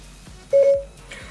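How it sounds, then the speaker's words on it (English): A Sony SRS-XB40 portable speaker sounds its Siri activation tone when the phone button is pressed with an iPhone: one short, clear electronic beep, close and fairly loud, against near silence. "If you're using an iPhone and you press the phone button, you'll awaken Siri from his or her slumber."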